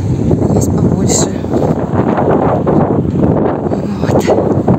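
Steady wind roaring against the microphone outdoors, a continuous loud rumble throughout, with a voice faintly present underneath.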